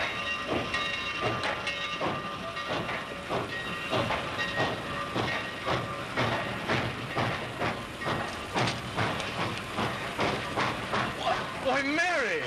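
A 1930s steam train pulls into a station with steady, rhythmic wheel clatter and hissing steam, fairly close and continuous throughout.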